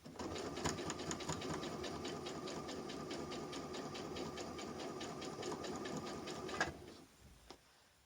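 A sewing machine stitching fabric for a lampshade and bolster, running in a fast steady mechanical whir with even rapid ticks for about seven seconds, then stopping with a few faint clicks, close and clear with no talk.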